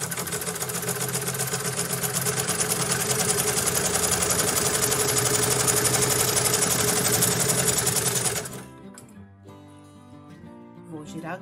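A sewing machine runs a continuous fast stitch across a quilt for about eight seconds, a steady mechanical whir that then cuts off, leaving quieter handling sounds.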